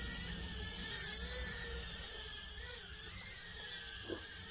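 An APEX GD-65A drone races at its top speed setting, giving a steady high-pitched whine of small propellers that holds loud and continuous throughout.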